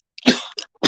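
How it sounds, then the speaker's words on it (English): A person coughs close by, a quick burst of two or three dry, rough coughs with brief silences between them. "Sorry about the cough."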